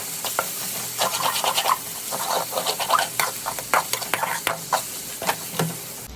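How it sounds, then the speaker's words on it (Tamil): Ginger garlic paste stirred and frying in a pan for Kerala-style chicken roast, with repeated scraping strokes of the spoon over a steady sizzle, close up and fairly loud, no voices. "நல்லா மிக்ஸ் ஒரு நிமிஷம் அப்படியே நல்லா மிக்ஸ் பண்ணி கொடுக்கலாம்"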